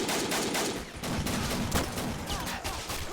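Machine gun fire in the video game Army Men: Plastic Wars, dense rattling bursts of rapid shots over game battle noise, loud and continuous with no talk.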